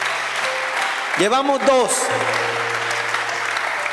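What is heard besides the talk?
congregation applauding in church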